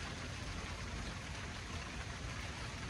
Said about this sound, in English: I don't know if you can hear the rain on my hosta in the background.